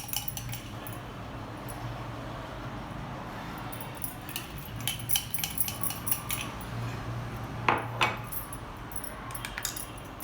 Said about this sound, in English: mix it all very well and then add the remaining portion of this beaten coffee to it.